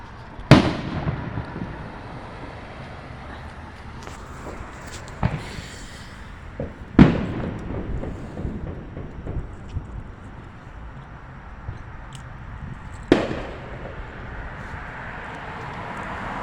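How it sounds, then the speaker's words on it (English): Distant fireworks burst a handful of times, each a sharp boom followed by a crackling, echoing tail, with long quiet stretches of faint background hum between the explosions. "Right when I decide to make a video and try to catch the fireworks,"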